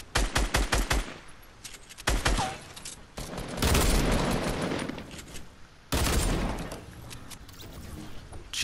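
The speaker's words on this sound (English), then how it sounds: "let's get this kill with the pistols" Dual-wield pistols in the video game Fortnite fire in rapid bursts, loud sharp shots crowding together in quick volleys with short pauses between them, with no talk over them.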